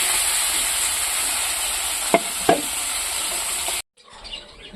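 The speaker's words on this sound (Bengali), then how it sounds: "এবার এরকম করে এক এক করে আমি মাছ ভেজে নেব।" Fish pieces frying in hot oil in a wok give a loud, steady hiss, broken by two quick clinks of a utensil, before the sizzle cuts off abruptly and a softer, quieter background follows.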